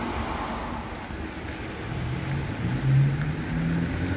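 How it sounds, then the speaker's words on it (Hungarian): A route 110 city bus pulls away from a traffic light, its low engine rumble growing and droning steadily over outdoor traffic and wind noise. "Közben érkezik is a 110-es autóbusz, ami most megáll éppen a pirosnál, várja itt a szabadot."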